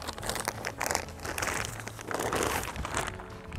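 Thin plastic film being torn and peeled off a new Ortlieb front roller bike pannier, a continuous close crinkling and crackling rustle with short ripping bursts.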